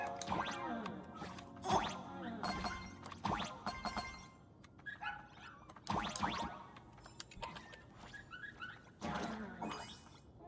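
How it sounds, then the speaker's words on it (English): In Honkai Star Rail, a cartoonish puppy makes a string of squeaky, yelping barks and whimpering whines, bright and close, with gaps of quiet game ambience between the bursts. "All the dog noises."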